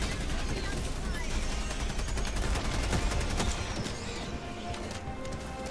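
Bombs and gunfire in the Helldivers 2 co-op shooter game during a fight against Terminids, a dense, rapid barrage of bangs and explosions that stays loud throughout, with a few louder bursts near the middle.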